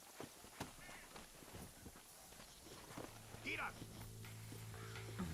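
Hooves clip-clop and footsteps patter steadily in Red Dead Redemption, the horse sound moderately close and mixed with game ambience. Brief talk is heard beneath it.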